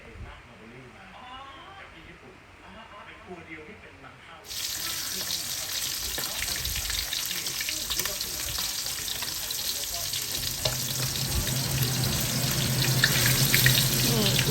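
Mackerel frying in hot oil for a Thai chili paste, starting as a quieter background before a loud, dense sizzle takes over and continues steadily, growing slightly louder toward the end.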